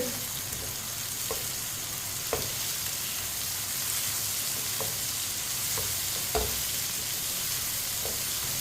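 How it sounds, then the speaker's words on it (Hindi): Finely chopped tomato and green chillies sizzle and fry steadily in a pan, with a few sharp stirring clinks at scattered intervals and no talking. "टमाटर को भी 1 मिनट के लिए पका लेंगे।"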